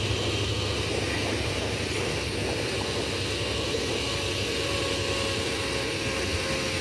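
A steady, loud roar of Airbus A320 engines during landing and touchdown on a runway, with broadband rushing noise, continuous throughout and unbroken by any talk.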